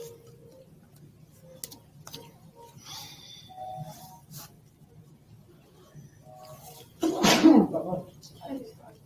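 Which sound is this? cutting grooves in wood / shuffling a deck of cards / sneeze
sneeze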